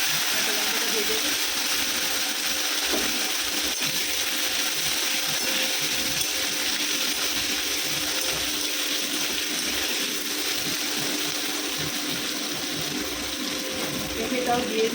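Onion and green chili frying in hot oil in a home kitchen, a steady, loud broadband sizzle and hiss that runs unbroken from start to finish.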